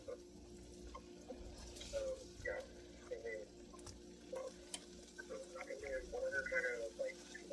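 Hands being washed under a running kitchen tap during bacon cooking, a faint, steady trickle of water with soft splashes and rubbing, and light kitchen background noise.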